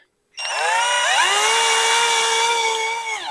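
A power drill boring pilot holes into a Yukon workbench to mount a 3-inch swivel vise, a single close, loud whine that winds up quickly, holds steady for a few seconds and then winds down slightly.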